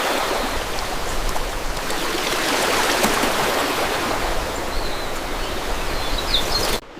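Steady rushing water flows continuously, a broad even wash of stream noise that fills the whole stretch before cutting off abruptly at the end.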